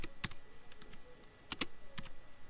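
Someone types in Tally accounting software on a computer keyboard, giving faint, close, irregular key clicks in small clusters without any talk.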